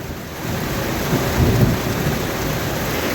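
Heavy downpour in the Sundarbans during a storm, a dense, loud hiss of rain with a low rumble of thunder rolling underneath, steady throughout with no voices.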